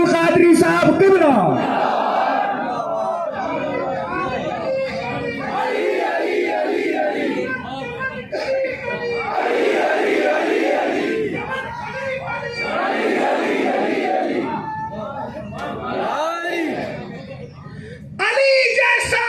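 A large crowd at an Islamic religious gathering shouts slogans back in unison, with loud, sustained massed voices rising and falling in waves as a single voice leads each call.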